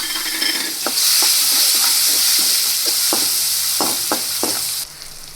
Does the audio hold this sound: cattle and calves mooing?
no